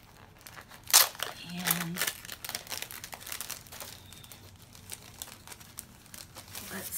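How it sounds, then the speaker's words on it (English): Sticker packaging crackles and crinkles close by as it is opened, with a sharp rustling burst near the start and lighter intermittent crumpling afterward; a voice speaks briefly. "I'm going to open up these two stickers."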